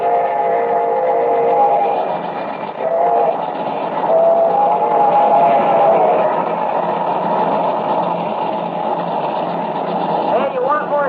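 A steam locomotive train runs steadily in a radio drama, its rumble and chugging continuous and fairly loud, with voices speaking over it.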